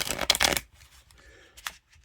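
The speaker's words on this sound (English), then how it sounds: "Let's get one more shuffle to end the video." A deck of Bicycle playing cards is shuffled close up, giving a short burst of riffling flutter followed by a few soft taps and rustles.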